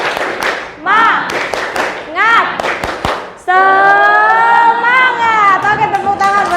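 A classroom of students does a rhythmic cheer clap, sharp patterned claps in quick bursts alongside chanted voices, ending in loud sustained group shouting close by.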